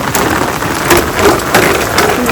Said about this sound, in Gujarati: મેઘ વર્ષે છે ઝરમર ઝરમર